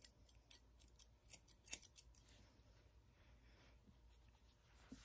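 Scissors trimming a Goldendoodle's curly coat at home, a quick cluster of close, crisp snips at the start, then quieter, sparser cuts against soft background noise.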